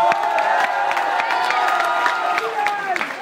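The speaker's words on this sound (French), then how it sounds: "Merci beaucoup, on peut applaudir Dylan." Comedy-show audience at a Gad Elmaleh performance in Strasbourg erupting in loud, continuous applause with cheers and whoops, a dense crowd roar sustained throughout with sharp claps standing out.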